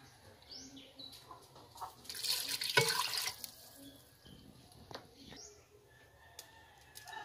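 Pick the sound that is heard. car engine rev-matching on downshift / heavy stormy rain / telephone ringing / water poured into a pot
water poured into a pot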